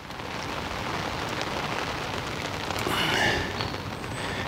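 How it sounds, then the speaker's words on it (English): Heavy rain pours down at a lakeside pole-fishing spot, a steady close-up hiss of drops pattering on surfaces that runs unbroken and loud throughout, swelling briefly near the end. "As you can see, it's horrible rain."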